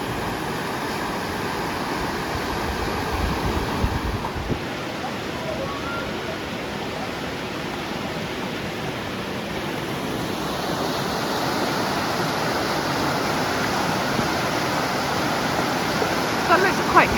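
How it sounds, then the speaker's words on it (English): A river runs around a campsite near Ljubljana, giving a steady, even rush of flowing water that holds at the same level throughout, with no clear talk above it. "this is the river that runs all around the campsite"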